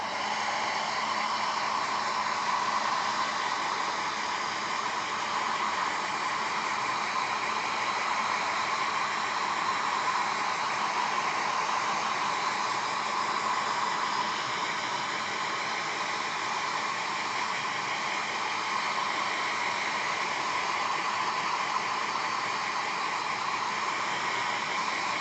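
A hair dryer, used to dry paint on a model, blows with a constant, even whirring hiss that stays close and unchanging from start to finish.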